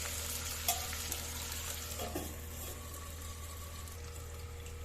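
Potatoes for aloo posto cooking in a covered pan, a soft steady sizzle and bubbling with a few faint clinks, quiet and continuous.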